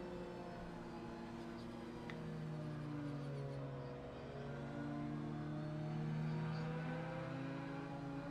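A car engine drones in a racing video game at Watkins Glen, a low, steady hum with layered rising and falling tones as the revs shift, quiet and continuous in the background.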